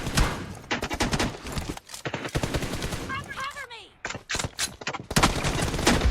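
Rapid bursts of automatic gunfire from the battle royale game PUBG crackle close and loud in dense rattling volleys, with a short gap, and a voice talks faintly underneath.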